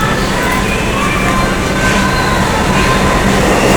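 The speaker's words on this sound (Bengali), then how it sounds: "ওই দেখ ট্রেন যাচ্ছে, দেখা যায়, ওই দেখ না" A Kolkata Metro train rolls past outdoors near Rabindra Sarobar, a loud continuous rumble with a faint metallic whine, heard from nearby with people talking over it.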